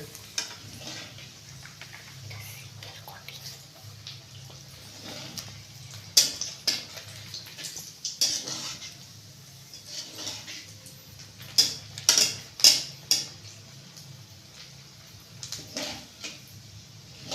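Vegetable chops frying in oil, a soft continuous sizzle broken by sharp clicks and clatters near the middle and end of the stretch, close by, with no one talking.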